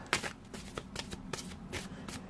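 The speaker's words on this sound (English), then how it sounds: "I'm shuffling and I'm feeling an overall sense of completion." Tarot cards being shuffled up close, a quick series of soft riffling flutters and slaps over a couple of seconds, with no one speaking.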